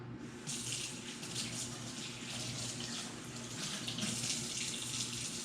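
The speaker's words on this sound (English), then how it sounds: "A lot of hand washing going on in this process." A kitchen tap runs steadily as hands are washed during raw ground beef prep, a close, continuous hiss of water splashing into the sink with no talk.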